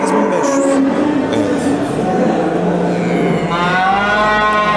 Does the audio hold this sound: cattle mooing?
yes